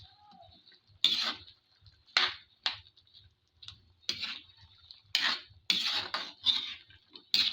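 Squash, sardines and eggplant being stirred in a pan: a spoon scrapes and clinks against the pan in irregular strokes, close and fairly quiet, repeating over several seconds with no talk.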